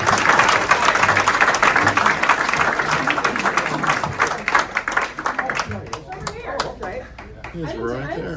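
An audience claps at a Rotary club meeting, dense applause near and loud that thins out into scattered individual claps toward the end, with voices talking over it.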